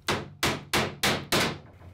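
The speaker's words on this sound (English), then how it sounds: "When you're hammering away at the mold like this, it tends to be a little bit bouncy." Five sharp, evenly spaced hammer blows drive nails into lapstrake planking fastened over a mold on a wooden dory under construction, each strike ringing briefly and close by.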